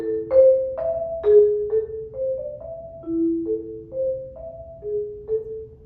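Mallet notes struck one after another in a quick, even sequence, each bright tone ringing briefly and hopping up and down in pitch.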